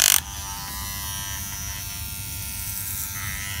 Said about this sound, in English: the good thing about having an inverter in my van is I can run the normal barbershop clippers